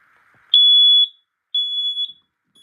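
A loud, high-pitched smoke alarm beeps in two long shrill bursts separated by a brief silence, with no other sound around it.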